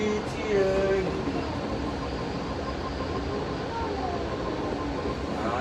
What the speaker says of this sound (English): On the VTA train.